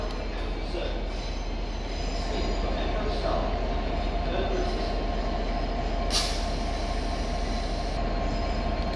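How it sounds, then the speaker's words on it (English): A Southeastern Class 375 electric train pair rolls in with a steady rumble of wheels on rails and a brief high squeal, heard from a platform at London Victoria at moderate distance. "we also have a Southeastern 375 pair just arriving in"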